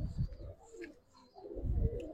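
Old-generation Gribaz pigeons coo close by in low throaty bursts, one at the start and a fuller one near the end, separated by a quieter stretch with faint higher chirps.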